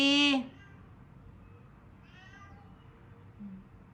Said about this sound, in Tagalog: May pusa dito sa labas.